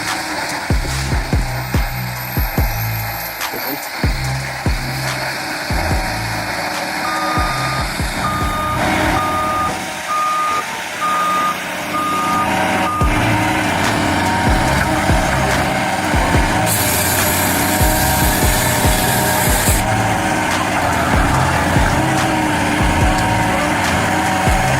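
A forestry harvester works trees outdoors, a loud continuous engine drone with shifting tones and steady reversing beeps over it, plus intermittent mechanical clunks and cracks from cutting and processing.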